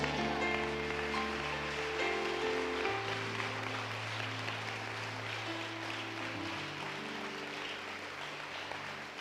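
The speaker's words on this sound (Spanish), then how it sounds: "Dar un aplauso a Jesús." Applause from a church congregation fills the space as a steady patter of clapping, with sustained organ or keyboard chords playing underneath.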